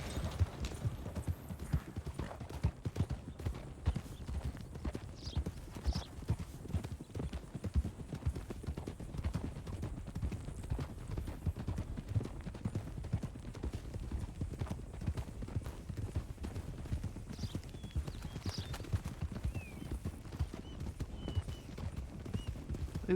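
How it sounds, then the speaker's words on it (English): Horse-drawn wagons on a road in a video game, with a continuous busy clip-clop of hooves and rattling wheels running steadily throughout and a faint whinny now and then. "So many wagons on the road these days."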